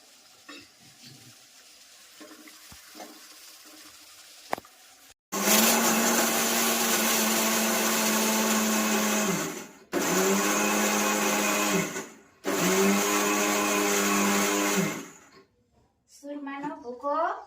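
A kitchen mixer grinder pulverizes cooked bhakri flatbread for ladoo, running in three long, loud, steady whirring bursts separated by short pauses after a quiet stretch.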